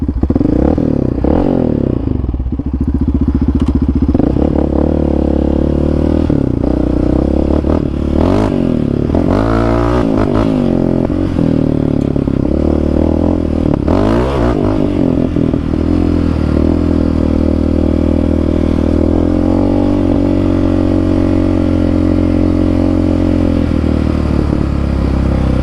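A Yamaha Raptor 700 ATV with a big-3 upgrade revs hard in second gear, a loud, steady engine roar that surges and dips through the throttle, close and continuous with some clattering from the ride.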